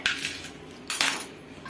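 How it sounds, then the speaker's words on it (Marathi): Two bursts of a knife chopping taro leaves on a cutting board, a short cluster of chops near the start and another about a second later, close and clear. "याला मोठं मोठं चिरून घ्यायचंय आहे"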